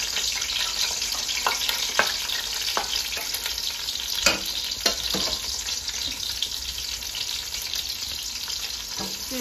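Onions frying in a pan for a goat rezala, a steady loud sizzle broken by occasional scraping and stirring clicks, with no speech.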